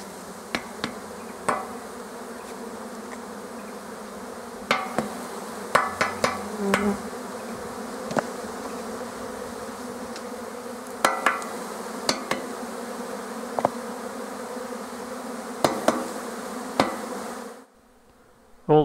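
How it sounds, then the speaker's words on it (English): Honey bees buzz and fly around a hive that has been shaken out, a steady close drone with sharp taps and knocks scattered through before it cuts off. "All the bees that are flying are worker bees, and they will fly back to the hive as quickly as possible."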